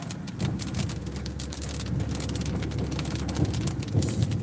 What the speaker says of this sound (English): Yeah, it's starting to rain up here